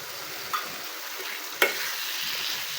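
Fried pointed gourd stirred into cooked-down spices in a pan, a soft steady sizzle with two sharp spatula knocks against the pan, no speech.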